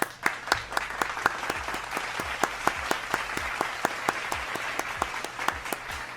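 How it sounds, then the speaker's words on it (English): A canned applause effect fired from a Stream Deck button gives steady crowd clapping with sharp individual claps standing out, running evenly for several seconds with no talk. "Click that applause button."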